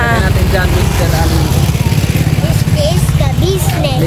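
Motorcycle engine running steadily nearby at a Filipino family home, a continuous low rumble with a rapid pulsing beat that stays loud throughout, with people talking over it.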